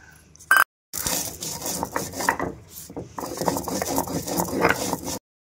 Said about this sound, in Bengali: ভাজা মশলাটা আমি বেটে নেব।